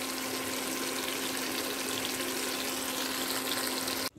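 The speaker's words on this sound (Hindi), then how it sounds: "देखिए, हमारा चिकन फ्राई हो रहा" Chicken fries in a pan for chicken tikka with a dense, continuous sizzle and a steady hiss that stays level throughout and then cuts off abruptly at the end.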